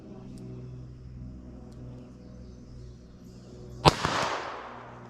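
A single sharp, loud gunshot from a .32 S&W Long snub-nose revolver cracks out after a few seconds of quiet background hum, then decays in a brief echo.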